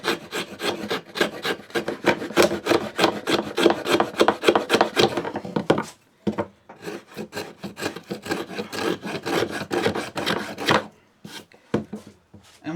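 A router plane takes repeated rasping strokes across a wooden tenon, each stroke quick and scratchy. The passes come in a fast even rhythm, pause briefly, then resume.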